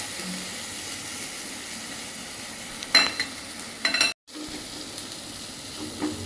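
Bitter gourd fries in a pan with a steady, soft sizzle and hiss while being stirred, with a couple of sharp clinks of a utensil against the pan and a brief cut-out, close up and without talk.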